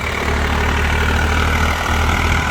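A tractor engine labors under heavy load during a pulling contest, a loud, steady low rumble with a continuous droning roar that holds constant throughout, no voices over it.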